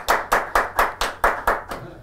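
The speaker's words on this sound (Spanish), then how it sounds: "yo cuando los vi aplaudiendo" Eight sharp hand claps in a steady, even rhythm, close and loud, with a short quiet tail after the last one and no talking.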